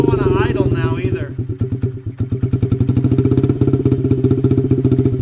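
A Honda CRF 50 with its exhaust baffle removed, running a straight pipe, idles loudly and unevenly in a rapid, throbbing rhythm close by, with a voice talking over the first second.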